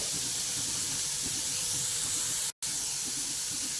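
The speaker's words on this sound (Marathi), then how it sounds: "आता काकडी टाकली फोडली आता ही फक्त दोन एक मिनटं ठेवा अशी चांगली परतून घ्यायची मंद गॅसवर" Cucumber pieces sautéing in a pan over a low flame give a steady, soft hiss and sizzle that runs unbroken with no talk, cut off for a moment by a brief dropout.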